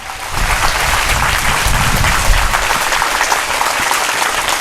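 A church congregation bursts into loud, sustained applause in praise, a dense wash of many hands clapping close and continuous throughout with no talk.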